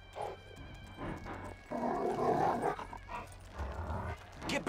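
A Rottweiler in Grand Theft Auto V growls and barks in a rough, snarling burst amid scuffling and thumping, with a low rumbling background.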